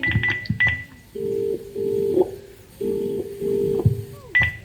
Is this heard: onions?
no